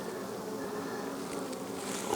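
A steady, dense buzz of many honey bees near a hive, continuous and even throughout with no voices.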